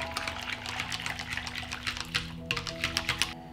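A batter of beaten eggs, milk and sparkling water is stirred in a bowl, making a rhythmic series of soft wet sloshes and clicks at close range, fairly quiet and continuous.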